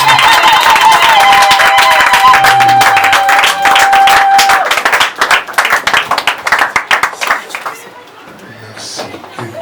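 A church congregation applauds and cheers during a joyful service, with dense clapping and voices that taper into scattered claps and fade out near the end. A sustained musical tone rings under the opening.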